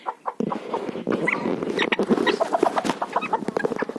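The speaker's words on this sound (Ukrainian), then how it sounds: "Заховався пітушок, гріється під курочкою. Ні, це курочка." A hen clucks repeatedly in short, close bursts on a village farmyard, the calls uneven in rhythm and fairly loud, with no talk over them.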